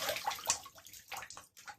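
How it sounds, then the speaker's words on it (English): Soapy bloom water splashes and gurgles briefly into a sink, a close, loud dump lasting under two seconds. "We're going to dump it in the sink"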